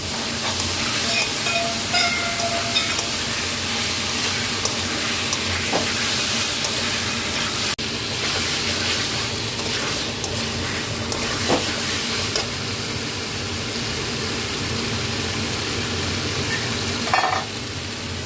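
Spices and masala fry steadily in a pan, a continuous loud sizzle and hiss with occasional stirring scrapes and clinks, close by and uninterrupted throughout.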